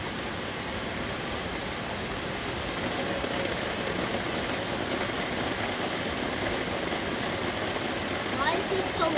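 Heavy rain drums steadily on an umbrella during a storm, a continuous close hiss of pattering drops that holds level throughout without pause.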